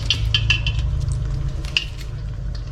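Tofu skin rolls fry in oil over low heat. A soft sizzle runs underneath clinks and scrapes from a utensil in the pan, and no one speaks.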